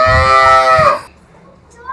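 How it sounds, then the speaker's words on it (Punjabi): A buffalo lets out a deep, loud, drawn-out low lasting about a second, then it fades into quiet outdoor background. "ਇਹ ਚਾਰ ਮੱਝਾਂ ਜਿਹੜੀਆਂ ਸਾਹਮਣੇ ਖੜੀਆਂ ਨੇ"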